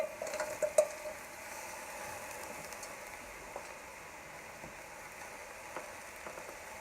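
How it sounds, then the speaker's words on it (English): Frozen lobster tails and shrimp hit a hot pan and give a few quick clatters and a burst of sizzling, then settle into a quiet, steady frying hiss with occasional small pops. "I'm now going in with my frozen lobster tails and shrimp, going in whole, so not really chopping them up."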